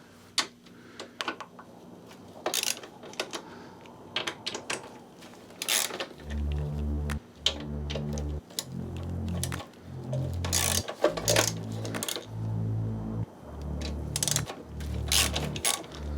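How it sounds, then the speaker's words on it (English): Ratchet clicks come in repeated bursts as a 1/2 inch 12-point socket removes bolts from a Harley-Davidson Road Glide support bracket, close and clear, with pauses between the strokes. "I'm going to use a 1/2 inch 12-point socket to remove those."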